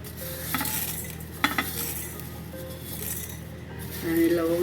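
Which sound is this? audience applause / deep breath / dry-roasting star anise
dry-roasting star anise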